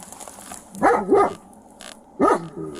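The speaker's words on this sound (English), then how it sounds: "That dog would scare the shit out of me." A dog barks three times, two quick close barks followed by a third after a pause, loud and near with no talking over them.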